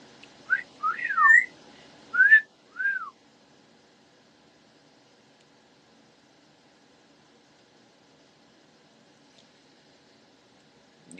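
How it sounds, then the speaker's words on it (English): A bird at a live-stream setting whistles a few quick, rising and falling notes in the first three seconds, fairly close and clear, then falls silent with only faint background hiss. "That's the bird whistling."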